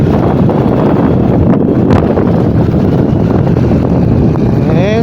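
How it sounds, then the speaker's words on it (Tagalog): Strong wind buffets the microphone on a motorcycle ride along a seaside road between Bacon, Sorsogon and Manito, Albay, making a loud, steady, unbroken roar throughout with no talking. "Ay, lakas ng hangin."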